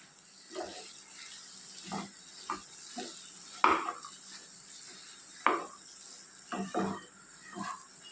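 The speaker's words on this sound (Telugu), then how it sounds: "అలాగే కొద్దిగా కొత్తిమీరను కూడా యాడ్ చేసుకుందాము వీటిని బాగా కలుపుకోవాలండి" Chicken fry with coriander and coriander powder is stirred in a pan: a low, faint sizzle broken by irregular scrapes and knocks of the spoon against the pan.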